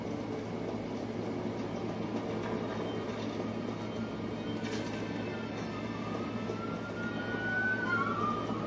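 Subway train in the Resident Evil 3 video game, a steady low rumbling hum of rail noise filling the scene, with a rising whine appearing near the end and no talk.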